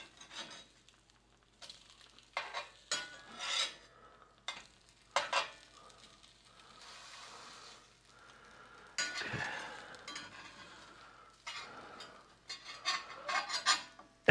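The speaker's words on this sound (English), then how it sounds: "I'm scraping my brand new pan with a metal spatula" A metal spatula scrapes and stirs in a brand-new Hexclad frying pan cooking egg, making repeated rough scraping strokes and soft sizzling over about fourteen seconds, close and moderately loud, with no talking.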